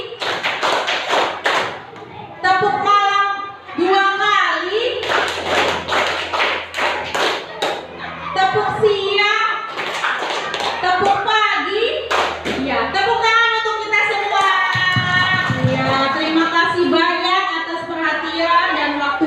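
A class of students performs a rhythmic clap chant in a classroom, sharp hand claps falling in patterned bursts between sung and spoken group lines, with children's and an adult's voices dominating.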